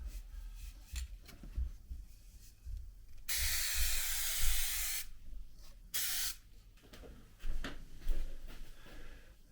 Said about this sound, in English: spray adhesive is your friend